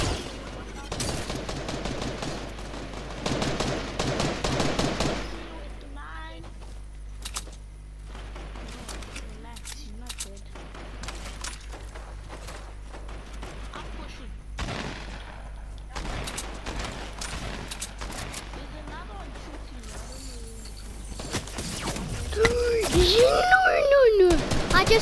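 Shots ring out in Fortnite in a busy fight, with bursts of gunfire at the start and scattered shots afterward, mixed with game sounds while a player talks over much of it.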